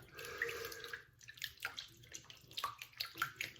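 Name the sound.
hot water running to soak and wash a shaving brush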